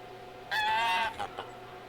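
Several geese call together during a hunt, a loud burst of overlapping honks lasting about half a second, followed by two shorter, fainter calls over a steady low background.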